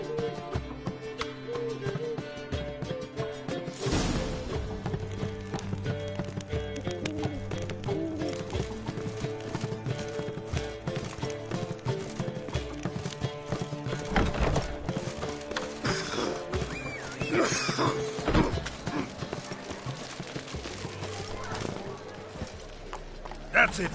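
Roach, Geralt's horse in The Witcher 3, trotting with a rhythmic, continuous clip-clop of hooves that runs throughout under character dialogue, with a brief whinny mixed in.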